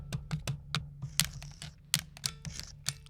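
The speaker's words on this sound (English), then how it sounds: "So these are just a bunch of different sounds we got out of the Light Zapper" Short percussive hits sampled from an NES Light Zapper light gun, a quick series of dry clicks and snappy taps in an uneven rhythm, close and fairly loud with no talking.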